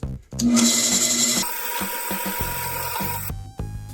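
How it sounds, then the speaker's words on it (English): A drill press whirs up and bores through scrap wood, a grinding, rubbing drone that holds steady for a few seconds before cutting off abruptly. "put it in your drill press, and drill a hole through a piece of scrap material"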